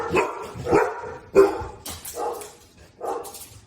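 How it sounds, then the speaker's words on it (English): Several sharp dog barks in an uneven series, fairly close, with short pauses between bursts. "Excuse my dogs."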